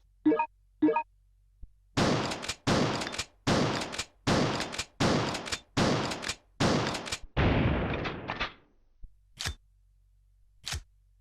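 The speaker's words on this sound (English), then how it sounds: "Alright, well, let's test the shotgun out." Shots from a SPAS 12 shotgun in the game Resident Evil Survivor: seven sharp, loud blasts fire in quick succession, each with a short tail. Brief clicks come before them and after.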